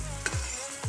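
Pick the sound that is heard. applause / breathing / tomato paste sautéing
tomato paste sautéing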